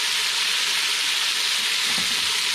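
Beef searing over a fairly high flame in a hot pot, a steady loud sizzle and hiss that fills the space without pause, close up and with no voices.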